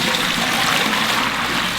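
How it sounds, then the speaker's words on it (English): Water pours from a bucket into a large batch of galaxy slime on a living room floor, a steady, close gushing splash that runs without a break. "I like to put water in the slime, guys,"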